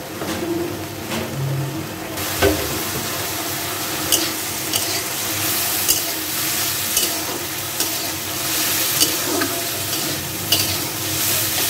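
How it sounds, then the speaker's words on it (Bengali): Fish coated in turmeric, salt and chili fries in hot oil, a loud, steady sizzle and crackle close by, with occasional clatters and stirring knocks from the pan. "এই যে সেই মাছ আমি এখন এটা তেলে ভেজে নিচ্ছি।"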